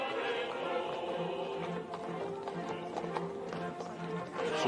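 Picadors' horses in a staged bullfight scene clip-clop steadily across the stage, their hoofbeats a continuous rhythmic tapping over a dense, busy background.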